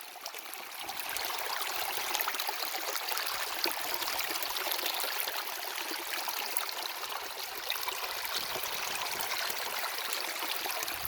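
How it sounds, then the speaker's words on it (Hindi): Clear water flowing over stones near Hub Dam in Balochistan, a steady, full rushing and trickling stream sound close by, continuous throughout with no voices. "ज़रा आवाज़ चेक करें, जो पत्थरों से लगकर ये पानी जाता है"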